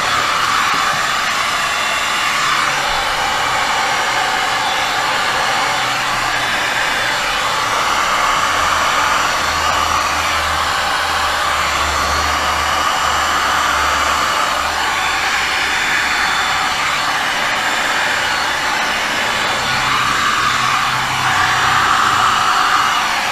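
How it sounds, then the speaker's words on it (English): A heat gun turned up high blows on alcohol ink and resin, a loud continuous whooshing fan roar with a faint motor hum, steady throughout with no talk. "I like to turn my heat gun up."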